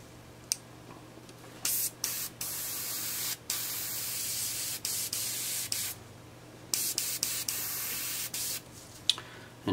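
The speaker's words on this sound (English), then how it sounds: "Into an airbrush that's clogged." An airbrush sprays matte varnish onto a painted miniature in short, close bursts of bright, steady hiss that stop and start again, with a low steady hum underneath.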